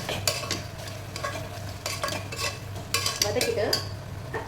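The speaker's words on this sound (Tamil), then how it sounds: "நல்லா வதக்கிட்டு" Onion and tomato with turmeric and chili powder sizzle and fry in a pan while a spoon scrapes and stirs repeatedly, close and fairly loud.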